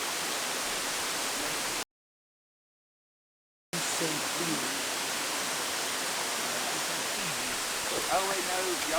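Steady broadband rush of a stream of water beside the Mt. LeConte trail in the Great Smoky Mountains, continuous and fairly close, with a brief dropout and faint voices talking over it.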